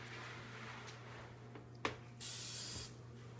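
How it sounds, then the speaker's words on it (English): A short, bright hiss of aerosol cooking spray onto forks bursts for under a second after a quiet click, close by in an otherwise quiet room. "I'm going to just spray them with some cooking spray"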